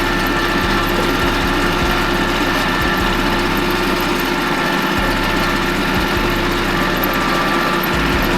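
A Japanese mini tractor with a freshly overhauled engine runs steadily while tilling soil, its loud close drone continuous, with periodic low thumps and shifts in the rotary load.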